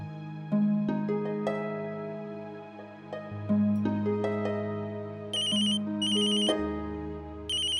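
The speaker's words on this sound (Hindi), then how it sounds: "अरे लगा ही नहीं, दूसरा फोन आ गया।" A melodic mobile ringtone chimes in repeating phrases, clear and steady, with bright high notes mixed in and no one speaking.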